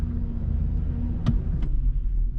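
A Chevrolet 2500 Suburban idles with a low, steady engine rumble while being parked in a driveway, close by, with a couple of brief faint clicks.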